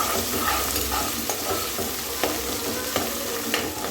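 Onion stir-fried with ginger and turmeric for chicken fry, a steady close sizzle broken by scraping stirs of the spoon in the pan throughout, with no talking.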